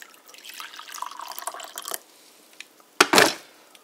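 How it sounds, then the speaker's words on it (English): Water poured into a mug holding decaf coffee mix with chicory, a short splashing pour with drips, then a second brief louder gush near the end, close and alone. "Then after that, you pour in the water."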